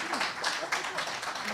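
An audience at an international debate competition grand final claps in a brief, moderately faint burst of applause, steady and dense throughout.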